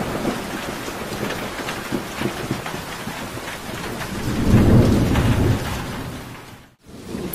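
Cartoon-style storm effect of rain drumming on a house roof with rumbling thunder, a loud continuous wash that swells into a heavy roll near the end before a brief dropout.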